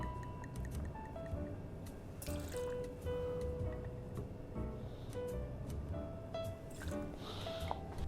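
Raspberry-flavoured Arctica vodka, a 45 ml measure, poured for a raspberry and white chocolate tiki cocktail: a soft, close trickle and splash of liquid, faint and unaccompanied by talk.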